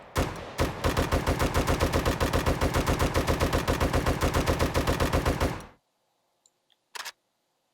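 A rapid burst of automatic gunfire from a gun in the game 7 Days To Die: a dense, loud stream of evenly spaced shots for about five seconds, then silence broken by a couple of faint clicks and a sharp thump.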